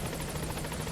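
Helicopter hovering at a landing zone in the Metal Gear Solid V: The Phantom Pain video game, giving a steady, loud rotor drone with regular blade pulses throughout, no voices.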